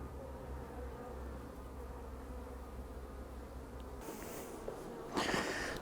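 Honey bees hum in a steady, close drone from an open hive where they have begun storing honey on a rainy day, with a few louder rustles and handling knocks near the end.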